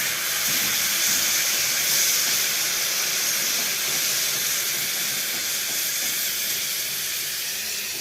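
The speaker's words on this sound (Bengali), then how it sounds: "এবার আমি জলটা দিয়ে দেবো।" Water pours steadily into a cooking pan for a fish curry of singi fish, cauliflower and bori, a continuous close hiss lasting several seconds without talking.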